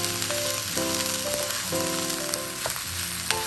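Garlic fried rice (sinangag) with soy sauce sizzles loudly in a pan, a constant crackling fry with occasional stirring scrapes and short squeaky tones, heard alone at close range.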